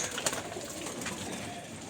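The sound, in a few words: pigeons cooing inside a loft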